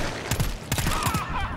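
Rapid bursts of automatic gunfire from the co-op horror shooter GTFO, several sharp volleys in quick succession with short gaps, loud and close, with faint game ambience between.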